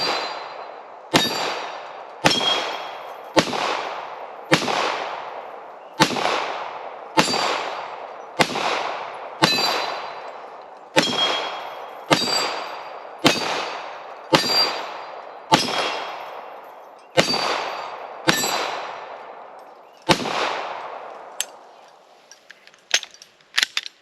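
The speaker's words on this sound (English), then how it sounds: "I'm gonna try one-handed offhand shooting and see how it does." A Springfield Echelon pistol fired one-handed, offhand, at an outdoor range: about sixteen loud, evenly spaced shots with ringing decay, then a few fainter metallic clicks and clinks.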